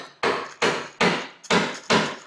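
Construction work inside a house brings repeated heavy hammer strikes, five loud, close blows at a steady pace, each with a short ringing decay and no voices over them.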